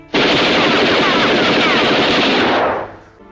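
A loud, close, continuous burst of automatic gunfire, lasting almost three seconds before cutting off and fading, in a dramatized shooting of General Ahmad Yani, with no voices.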